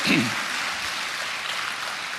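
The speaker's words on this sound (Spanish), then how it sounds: "Denle un aplauso al Rey bendito." A church congregation applauding, a steady dense wash of clapping throughout, with a brief voice at the start.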